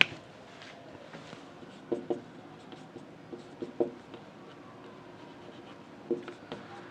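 Chalk or marker taps and scratches on a board during a physics lesson, sparse short strokes in irregular bursts, faint against a quiet room.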